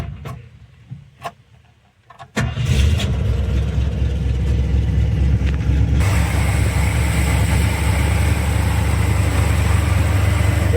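A few clicks and quiet moments, then a 1965 Ford Thunderbird hardtop's engine cranks and catches via a start switch, settling into a loud, steady idle that continues to the end.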